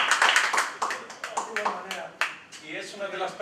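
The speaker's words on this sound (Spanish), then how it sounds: "Mete el aplauso para él." Audience applause for a guest at a tribute event in Barcelona: scattered, uneven clapping that rises and falls in short bursts, with someone talking loudly over it.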